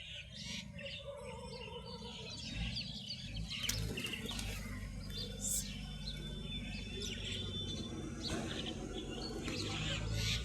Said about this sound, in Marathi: हे पहा पक्षी